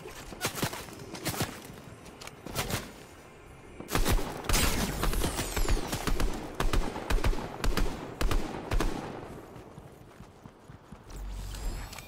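Video game gunfire in Fortnite crackles in sharp, repeated shots and rapid bursts, briefly easing off before a dense volley, then trailing into scattered cracks and a low rumble.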